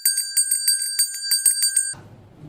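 Bright, ringing bell strikes repeat in a quick, steady rhythm for about two seconds, loud and close, then cut off abruptly, leaving only a faint low rumble.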